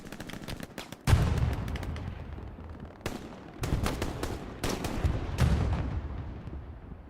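FG-42 rifle fire in a WWII video game, several sharp bursts of automatic gunshots separated by short pauses, loud and close with booming low-end echoes.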